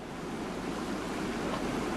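Sea waves surge against rocks beside cliffside salt pans, a steady broad wash of surf with wind noise, continuous and fairly loud throughout with no speech.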